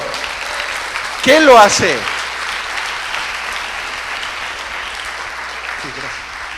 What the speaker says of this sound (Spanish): Denle un aplauso, pero bien fuerte al Señor.